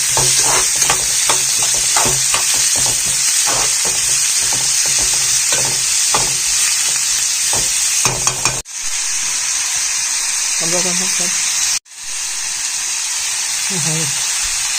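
Onion, tomato, cumin and mustard seeds sauté in a pan with a steady loud sizzle and repeated spoon scrapes, while a voice speaks briefly near the end.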